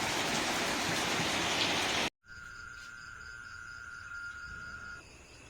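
Heavy rain pours steadily and loudly outdoors, a dense hiss that cuts off abruptly partway through, followed by quieter ambience with a steady high insect-like tone.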